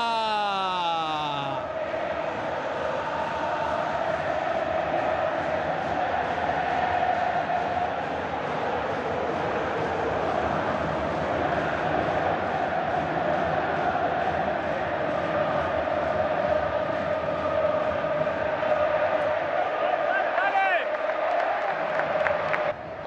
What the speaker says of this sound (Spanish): Ovación total, obviamente.